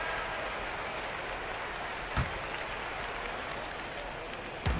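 Steady arena crowd applause and cheering from the NBA 2K18 basketball game, a '96-'97 Miami Heat versus Cleveland Cavaliers matchup, a dense continuous roar with two brief sharp thuds partway through.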